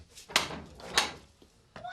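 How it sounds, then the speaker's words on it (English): A door is knocked twice with loud, separated wooden thumps in a TV drama scene, with a quieter knock-like sound near the end. "Is that an angel I hear knocking at the door?"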